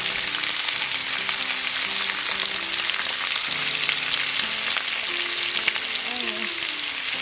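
Onion and sausage fry in a pan with a steady, dense sizzle, joined now and then by soft stirring scrapes and faint tonal clinks throughout.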